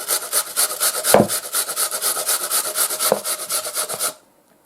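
Potatoes are grated on a fine kitchen grater straight into a bowl, giving rapid, even, rhythmic rasping strokes at close range that run steadily for about four seconds and then stop.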